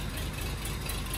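Engine of an old abandoned limousine running again after 32 years, a steady low idle rumble with a fine, constant rattle and no pauses.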